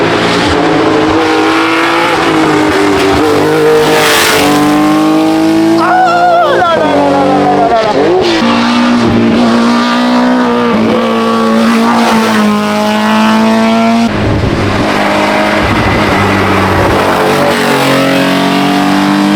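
A fast rally car roars past close by on a wet stage of the Rallye d'Antibes, its engine pitch rising and falling through gear changes, with voices chatting over the noise.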